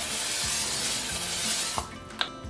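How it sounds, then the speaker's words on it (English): A continuous airy hiss of cooking spray misted into a 13 by 9 inch baking pan, close up, followed by a couple of soft knocks as it stops. "spray it with a little cooking spray,"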